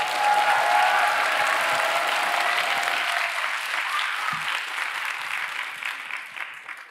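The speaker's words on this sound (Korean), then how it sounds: "우리 박수와 환호로 모시도록 하겠습니다" A church worship audience at a Remnant Day service claps loudly and steadily to welcome a speaker. The applause is dense and sustained, then slowly thins and fades near the end.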